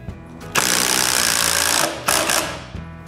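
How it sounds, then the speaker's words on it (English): A power driver sinks a screw through fur covering into a wooden cat tree platform, a loud close buzzing whir in two bursts with a short pause between, no talking. "I make sure the screw will be under the fur and finish screwing it in place."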